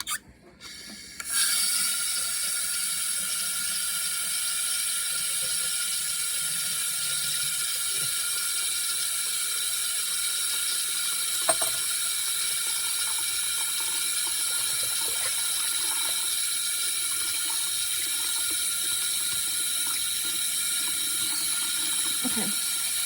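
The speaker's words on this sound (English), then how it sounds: "I have to turn the water on, you guys." Water runs steadily from a tap into a sink for about twenty seconds after a brief start, a loud, even hiss and splash with a few small clinks and knocks in between, no voices.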